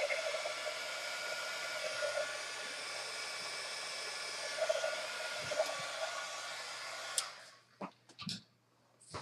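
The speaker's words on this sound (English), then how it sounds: "I'm going to run my heat gun for just a second." A heat gun blows steadily while embossing a handmade file folder book, a continuous close airy roar that cuts off near the end, leaving a few faint handling knocks.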